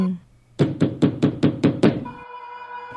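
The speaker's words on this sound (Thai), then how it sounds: "ได้ยินเสียงเคาะประตูดัง" Seven evenly spaced, loud knocks on a door are used as a sound effect in a ghost story, followed by a lingering tonal hum.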